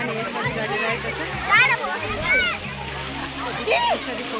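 Water splashes and sloshes as people swim at a stage area, a continuous watery wash with brief surges, under lively voices and children's chatter.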